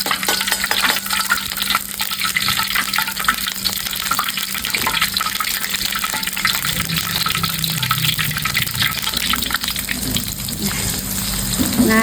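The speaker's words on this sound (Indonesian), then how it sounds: "Kemudian kita akan menggoreng" Steady oil sizzling and crackling as tempeh fries in a pan, a continuous close hiss that fills the whole stretch with no one speaking.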